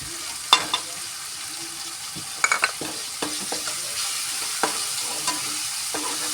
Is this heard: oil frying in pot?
yes